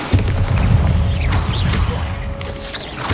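A Bombarda blasting spell in Hogwarts Legacy goes off with a booming magical burst, followed by creaking, whooshing debris and rumbling echoes in a loud, full game soundscape.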